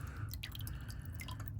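Water dripping and trickling from a soaked goat hair hake brush, a series of small close drops and splashes over a low background hum.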